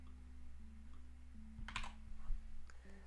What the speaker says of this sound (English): I'm going to type enter after that.